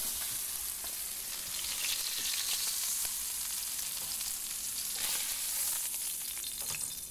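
Meat sears in a hot pan with a steady, close, dense sizzle that holds level throughout, with faint crackles and no voices.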